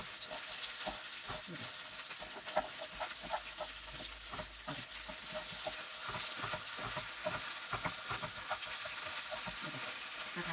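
Thai hoy tod, mussels in a crisp batter, fries and is stirred on a hot pan, making a constant hiss of oil with frequent close scraping and tapping strokes throughout.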